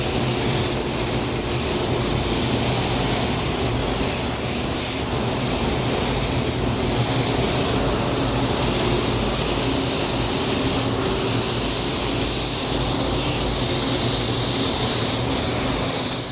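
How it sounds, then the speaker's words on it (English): A spray gun sprays Createx charcoal viola paint in a continuous, loud, close hiss of air and atomised paint that holds steady throughout without pause. "I'm going to grab my spray gun, and we are going to start spraying the charcoal viola."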